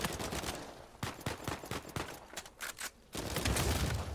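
Uncharted 4 multiplayer gunfire rattles out in rapid bursts of sharp shots, with a short pause before a heavier barrage closes the exchange.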